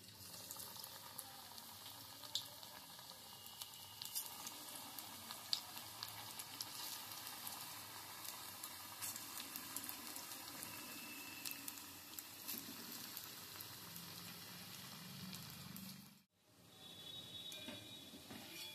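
Onion fritter balls (peyajer dobhaji) frying in hot mustard oil, a steady soft sizzle and bubbling hiss running throughout, briefly dropping out near the end before resuming.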